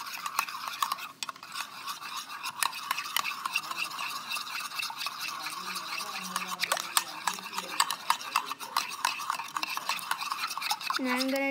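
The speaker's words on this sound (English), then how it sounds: "now we're gonna mix it." A spoon stirs homemade strawberry lemonade, giving close, steady clinking and swishing strokes that repeat continuously throughout, with a brief voice near the end.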